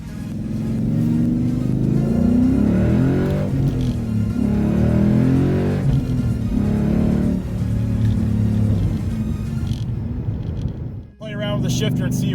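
Car fitted with an MT-82 manual transmission drives under load, a loud, steady engine rumble that rises and falls through gear changes, then briefly drops out before picking back up.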